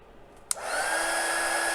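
A hair dryer blows on wet paint in an art journal. It clicks on and runs as a steady, close, whooshing whine for just over a second, then cuts off sharply, with no voices.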